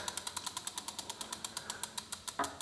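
A Hyper Scorpion e-bike wheel, its brake caliper removed, spins freely with a quick, even ticking of about eight clicks per second, soft and close, ending in a brief louder scrape.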